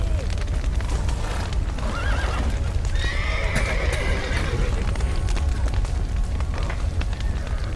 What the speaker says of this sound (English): Horses! Gotta let him out!